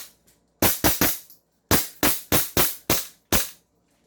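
An airsoft 1911-style gas pistol fires eight sharp, loud shots in quick bursts, two groups of three and five cracks in close succession, with a faint click beforehand.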